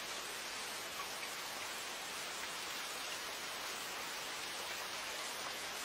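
Rain falls steadily and evenly, a dense unbroken hiss throughout, moderately loud with no voices over it.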